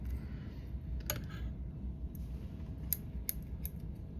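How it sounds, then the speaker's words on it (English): Scissors snip fly-tying hackle fibers on a caddis fly, several sharp close-up cuts in quick succession over a quiet low background. "come in there with my scissors, and cut both at the same time"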